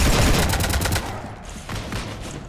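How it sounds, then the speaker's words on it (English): Sustained rapid gunfire in Mass Effect 3 strafing a ship, a loud, continuous rattle of automatic shots with a dense crackling texture and no talking. "You want to stop shooting up my ship?"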